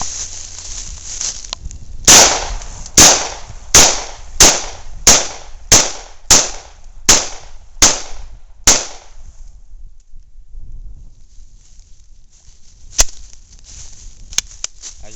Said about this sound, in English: 10 more rounds will finish the watermelon off completely